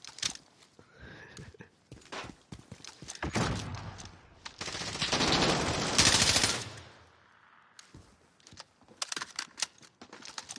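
Rapid automatic gunfire in an esports shooter video game, with bursts of shots building into a loud sustained volley, then tapering into scattered single shots and clicks.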